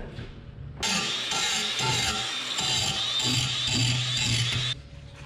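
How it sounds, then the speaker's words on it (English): An angle grinder cleans up the edges of freshly cut metal pieces on a dairy farm, a loud steady whining grind lasting about four seconds that begins and ends abruptly. "Now I'm just gonna go ahead and take the grinder and clean these up."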